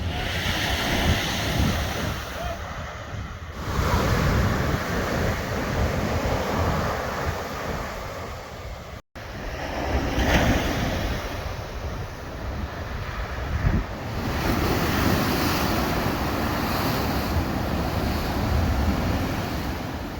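Ocean waves wash onto the beach at Huntington Beach, California, a steady, full surf roar with wind buffeting the microphone, holding on for about twenty seconds after a brief dropout near the middle.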